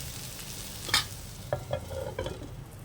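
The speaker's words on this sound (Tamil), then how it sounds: "நம்ம கிளறி விட்டுகிட்டே இருக்கணும்" Bitter gourd frying in oil while being stirred, a quiet sizzle broken by a sharp scrape and several short utensil knocks close by, no voices.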